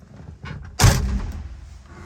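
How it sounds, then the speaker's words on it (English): A single solid thud as the door of a Ford Mustang Shelby GT500 Eleanor swings shut, close and heavy, with a short muffled ring-out afterward. "Let's just close the door and let's have a look at what the visibility is like in the car."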